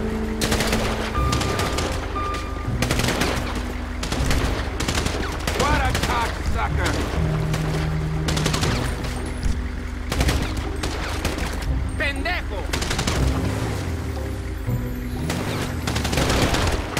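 Sustained automatic gunfire in a GTA 5 zombie-outbreak mod rattles almost without pause, loud and close, aimed at a car, with occasional heavier bangs and background game noise.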